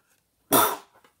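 One sharp, forceful human sneeze bursts out close to the microphone in otherwise near silence, followed by a faint breath.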